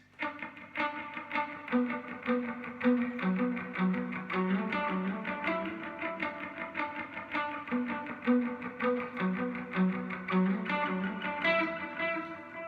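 Electric guitar with light to medium overdrive playing a melodic line, notes ringing into a dotted eighth delay with a touch of reverb, steady and alone.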